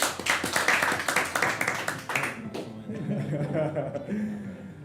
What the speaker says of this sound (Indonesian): Kita beri tepuk tangan dulu buat Mas Dimas.